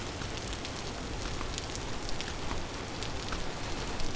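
Steady rain in the survival game Vintage Story, a dense, even hiss of drops pattering on surfaces, constant and enveloping with no voices.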